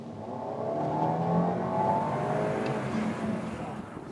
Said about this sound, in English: this 2-liter pulls hard all the way through the RPM range, and sounds pretty darn good doing it.